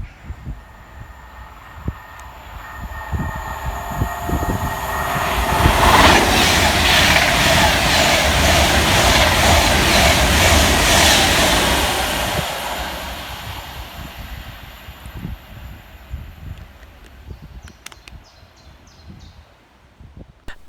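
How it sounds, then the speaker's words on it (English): An Avanti West Coast Class 390 Pendolino, unit 390134, passes fast through Goostrey station, swelling from a distant rumble to a loud rushing roar with rail clatter around the midpoint, then fading away with birds faintly audible. "Next to pass through the station for Avanti West Coast is 390134, working 1 Alpha 23 for Avanti West Coast from Manchester Piccadilly,"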